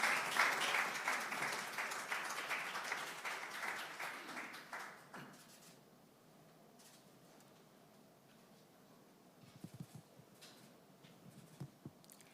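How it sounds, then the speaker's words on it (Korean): An audience at a People Power Party political event in 2021 applauds to welcome candidate Choi Jae-hyung onto the stage: dense, loud clapping that tapers off over about five seconds, followed by a quiet hall with a few scattered taps and thumps. "큰 박수로 환영해 주시면 고맙겠습니다"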